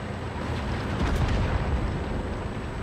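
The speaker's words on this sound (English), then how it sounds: "That's my first turret explosion." A tank's turret blows off after its ammo rack is hit in World of Tanks, giving a loud, dense rumbling blast that swells around the middle and roars on for a few seconds with no talk over it.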